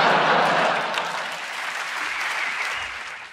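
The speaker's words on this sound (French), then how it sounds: "Applaudissez pas!" An audience at a live comedy podcast recording applauds in a broad, continuous wash of clapping that starts loud, eases off slightly and keeps going without talk.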